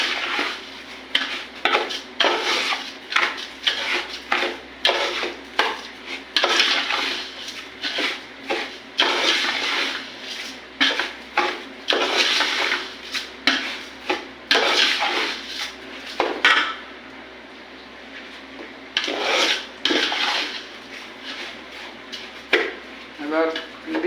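Rice for pulao is stirred in a pot, with repeated scraping and clattering strokes in an uneven rhythm. The stirring sounds are close and moderately loud, and a voice talks over them.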